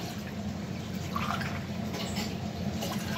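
About two cups of water are poured into a pot before boiling, giving a steady, gentle splashing trickle that continues evenly for a few seconds, close and moderately quiet.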